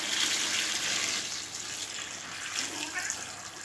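Sugar water mixture for homemade apple cider vinegar pouring into a bucket, a steady hissing splash that swells and eases slightly, close up and alone.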